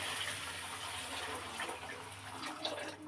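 Hot water is poured from a mug into a pan of vegetable rava upma, giving a soft, steady splashing gush that stays fairly faint throughout.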